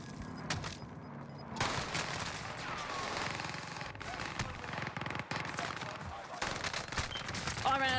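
Gunfire in an online shooter video game, rapid bursts and volleys of shots crackling continuously with sharp individual reports, loud and close.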